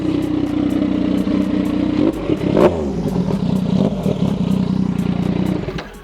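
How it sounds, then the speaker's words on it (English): A Yamaha MT-09 motorcycle engine runs with a rough, clattery mid-pitched drone, stumbles and nearly dies with a brief surge around two seconds in, then carries on unevenly, heard close up without speech. "It sort of sounds like it's about to crank and then it sort of almost dies, and then the next time it cranks up"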